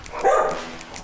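Bernedoodle dog named Benji giving a single short bark, close and clear, followed by quieter room sound.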